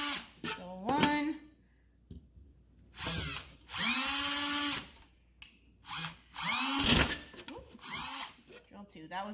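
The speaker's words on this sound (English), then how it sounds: "Okay, so you got 2 holes drilled in the bottom." A power drill bores holes in the bottom of skull-shaped plant pots, running in several separate loud whining bursts with rising and falling pitch, separated by pauses, and a voice speaks between bursts.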